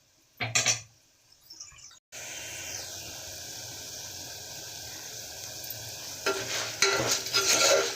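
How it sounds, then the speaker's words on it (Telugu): Toor dal lentils frying in a pan in a home kitchen, a steady sizzling hiss broken by scraping stirs and clinks of a utensil against the pan, with no talking. "చూడండి అలా వేగినాయి ఇంకా కొద్దిగా వేగాలి"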